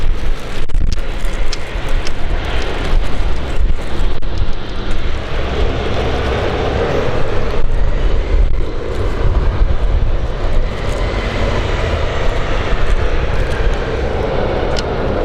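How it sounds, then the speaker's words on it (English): A Luxair Dash 8 turboprop takes off in strong winds, its engines roaring loud and steady throughout under heavy gusting wind noise buffeting the microphone. "Very tough conditions to take off here for the Dash 8."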